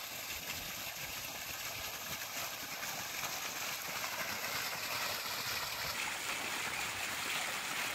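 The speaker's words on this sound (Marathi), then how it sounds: "आता ह्यो नदीचा चेंबर उसळलेला आहे बघा." A swollen river rushes in a steady, broad roar of churning water with a faint high hiss above it, continuous and fairly close, with no voices.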